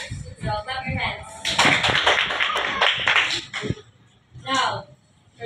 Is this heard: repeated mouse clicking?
no